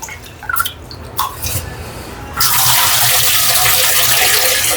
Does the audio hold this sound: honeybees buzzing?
no